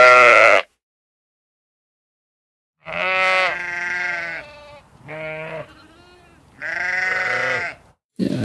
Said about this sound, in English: Let's see what would happen if we search for sheep.